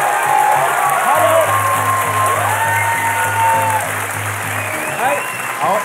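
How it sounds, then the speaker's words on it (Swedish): Audience applause welcoming the performers Leif and Billy onto a stage, steady clapping under loud amplified voices greeting the crowd. "ge en varm applåd till Leif och Billy"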